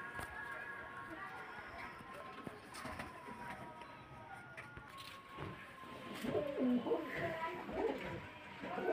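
Pigeons cooing softly in a loft among several birds, low murmuring coos rising louder near the end over light rustling and a low room murmur.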